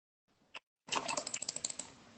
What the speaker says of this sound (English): I can hear you typing away in the background over there.